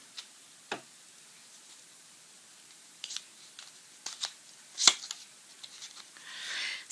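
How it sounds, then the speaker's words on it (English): A tarot card is drawn from a deck, producing a few soft, sparse clicks and slides of card stock, quiet and close, ending in a brief shuffling rustle. "Okay, so I'm going to pick a card in the middle."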